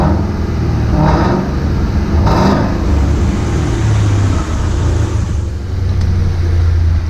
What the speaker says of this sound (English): It's pretty loud and raspy.